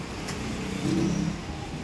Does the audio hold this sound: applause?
no